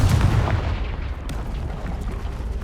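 A Confringo fire-blast spell cast in Hogwarts Legacy, heard as a loud, dense boom with a heavy low-end rumble at the start that settles into a sustained roaring crackle, with no voices.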